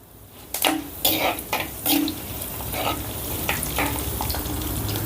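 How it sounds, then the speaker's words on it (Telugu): Cumin, four dried red chillies and curry leaves drop into hot oil as a tempering. A burst of crackling spitting is followed by a steady, close sizzle with light stirring. "ఓ చిటికెడు జీలకర్ర అలాగే ఒక నాలుగు ఎండుమిర్చి ఇందులోనే ఒక రెండు రెబ్బలు కరివేపాకు కూడా వేసుకుందాం"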